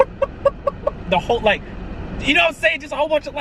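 A young man in a classroom imitates chicken sounds with his voice, a string of short clucking and crowing calls, loud and close, mixed in with his own casual talking.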